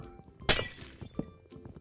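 A block of ice shattering in Minecraft, one sharp crack with a bright splintering burst, followed by a fainter thunk moments later.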